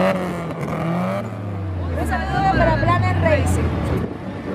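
A car engine revs up and roars at a quarter-mile drag race in Arequipa, pitch climbing and falling through a couple of throttle blips, with people talking nearby.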